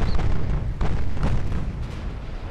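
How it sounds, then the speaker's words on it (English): A torpedo detonates against a battleship in the naval strategy game Ultimate Admiral: Dreadnoughts, a sustained rumbling blast with low roar and crackling bursts, loud and close with no talk. "Torpedo detonation on the one of the battleships."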